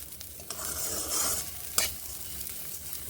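Raw rice grains are stirred and fried in a pan, a soft, hissing sizzle broken by scraping strokes and a sharp knock of the spatula.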